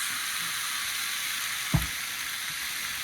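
An egg fries in a pan, giving a steady, close sizzling hiss with a single soft thud partway through as it is pressed down.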